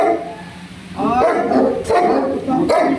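A dog barks a few times at moderate distance, with short yelps and whimpers cutting through outdoor background noise and some voices.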